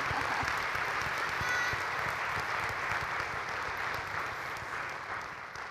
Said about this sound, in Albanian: duhet një duartrokitje shumë të fortë